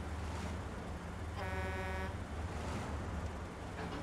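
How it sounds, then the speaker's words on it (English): A truck horn in the snowy off-road driving game SnowRunner gives one steady honk of about half a second, heard over a constant engine rumble. "Are you honking at me?"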